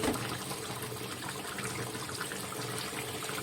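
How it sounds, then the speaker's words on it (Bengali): Water pours steadily into a pan of cooked-down egg curry masala for spring omelette curry, a continuous close gush and splash of liquid filling the pan throughout, with no talk. "এবার আমি জলটা দিয়ে দেবো।"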